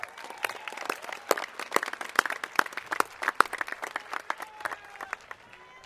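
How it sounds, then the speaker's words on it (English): Audience applause at a Long Beach City College commencement ceremony, many distinct sharp claps from a crowd, fairly close and lively, with no talking. "I think that deserves a round of applause"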